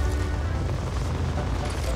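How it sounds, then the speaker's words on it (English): Dense gunfire and booming blasts in the battle royale game Apex Legends fill the moment, a continuous loud low rumble with no gaps. "Oh god, they're shooting right there."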